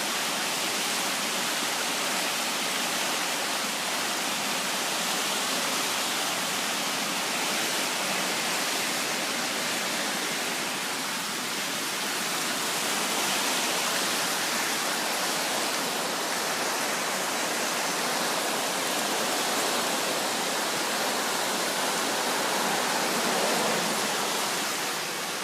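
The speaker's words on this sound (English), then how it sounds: "Can you hear the river?" River rapids rushing during a spring thaw, heard from a bridge with a small stream spilling over the side into them: a steady, loud, broadband roar of churning water that holds unchanged throughout, with no voices.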